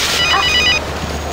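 A mobile phone rings nearby with a short, bright electronic ringtone, a quick repeated trill that cuts off after under a second.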